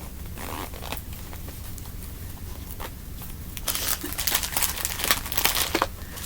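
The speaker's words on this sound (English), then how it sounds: "The zipper is broken, but that's okay. You can still close it, and you can still open it." Broken zipper on a small pouch worked open and closed by hand, a series of close, scratchy zipping strokes mixed with soft crinkling of the pouch, growing louder and busier toward the end.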